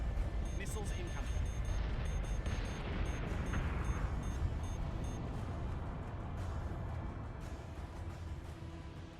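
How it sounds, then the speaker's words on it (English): Heavy missile explosions and booming impacts in the space combat game BSG: Deadlock, a dense, sustained rumble with layered blasts and a few sharper bursts, loud and continuous throughout. "Missiles incoming."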